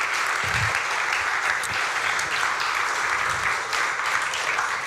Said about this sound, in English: Give a round of applause to those guys.